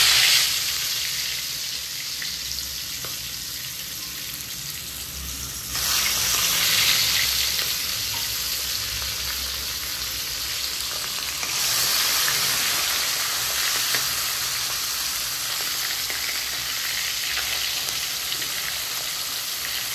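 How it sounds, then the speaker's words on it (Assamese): Garai fish and vegetables fry in hot oil, a loud, continuous crackling sizzle that swells noticeably twice as more pieces go into the pan, with no talking. "তেল গৰম হৈছে আৰু তেলত দিম"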